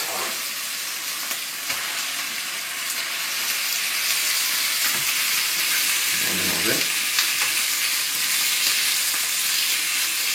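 Beef pieces for beef with onions frying in a pan, a loud, steady sizzle and hiss that builds slightly after they go in, with a brief stir or clatter midway.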